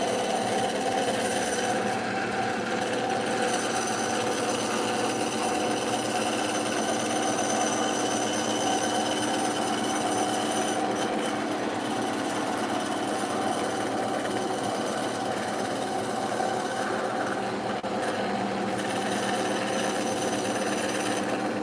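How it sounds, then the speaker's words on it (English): A power tool runs at a workbench with a continuous, unbroken mechanical whine and buzz, loud and close throughout, with no talking. "I love power tools"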